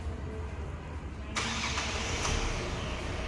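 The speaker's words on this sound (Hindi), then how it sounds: "लॉक करने के बाद आप इसको कॉन्स्टेंटली प्रेस करेंगे तो इंजन स्टार्ट हो जाता है" The engine of a 2022 Kia Seltos HTX+ is started with the remote key after locking. It catches abruptly partway through, and a steady idle follows over outdoor background noise.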